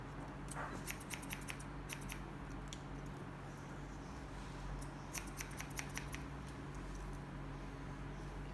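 Scissors snip repeatedly in two quick bursts of crisp, close clicks, separated by a pause, over a steady low background hum.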